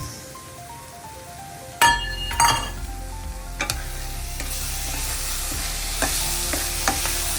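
Carrot halwa being stirred in a pan after cardamom powder and dry fruits go in, with a sharp metallic clang of a spoon on the rim, then repeated scraping, light sizzling and occasional clinks.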